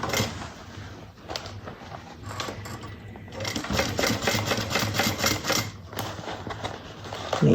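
A sewing machine top stitches a seam 1/8 inch from the edge on a bucket bag, a rapid rattling hum that runs in bursts with brief pauses and grows steadier and louder toward the end.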